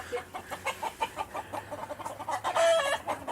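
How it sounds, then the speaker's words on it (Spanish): A rooster perched up in a tree near an abandoned house in Spain gives a run of quick, close clucks in an uneven rhythm. "allí encima el gallo"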